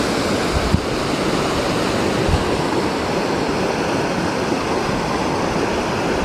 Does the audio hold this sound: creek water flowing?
yes